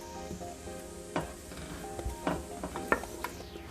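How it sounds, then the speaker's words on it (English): Onions sautéing in butter in a soup pot, a soft steady sizzle with scattered clinks and scrapes as they are stirred around, fairly quiet and close with no talking. "saute is just basically cooking the onion in butter so it could be translucent"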